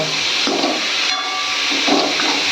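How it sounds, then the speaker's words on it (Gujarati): Water poured into a hot pan of mushroom curry with onion, garlic, turmeric, salt and mustard seeds sends up a loud, continuous steaming hiss and sizzle, close by and without pause. "હવે પાણી એડ કરો."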